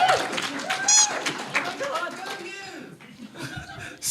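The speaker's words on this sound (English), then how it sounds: "Scattered applause." A few scattered claps and light chuckles ripple through a small audience at a live comedy show, uneven and sparse, with people talking over and between them.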